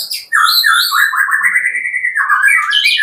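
A magpie-robin (murai) sings loud and close in a continuous run of bright, varied whistled phrases and chirps, alone without any talk.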